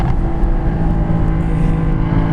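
2016 Porsche Cayman GT4 on track at The Ridge, its exhaust heard from outside the car as a loud, continuous engine drone under load, steady throughout with no talking.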